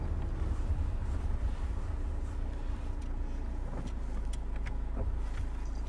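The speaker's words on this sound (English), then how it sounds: "I'm going on a car ride." Steady low rumble of a car on the move, heard from inside the cabin, with the engine and road noise holding even throughout and a few faint rattles, without any talking.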